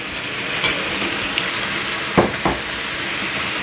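Chicken frying in sesame oil with minced garlic for a Korean braised chicken dish, a steady close sizzle with a few brief stirring scrapes partway through and no talking.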